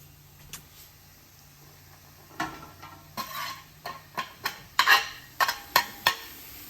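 A spoon scrapes and stirs seared beef with celery, chives, onion and carrot in a pot, quiet at first, then a run of rhythmic, clattering strokes over a soft sizzle.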